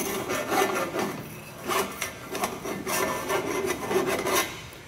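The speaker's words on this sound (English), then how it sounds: "file the end of the tube off" A metal file rasps against the end of a boiler tube in a series of short, rough strokes with uneven rhythm, close and moderately loud, with no talking.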